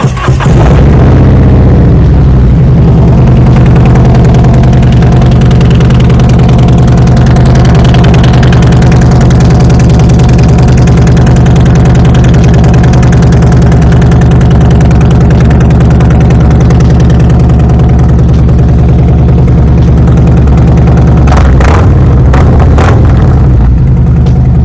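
A Harley-Davidson Road Glide fitted with an S&S cam idles loud and close, holding a deep, steady, lumpy rumble for the whole stretch with only a slight shift near the end.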